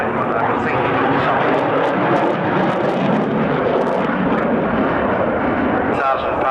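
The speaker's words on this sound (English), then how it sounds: "into the first of the MiG trademarks, the tail slide" A MiG fighter with RD-33K reheat engines roars through a tail slide at the 1992 Farnborough Airshow, the loud sustained jet rumble carrying over a commentator's voice throughout.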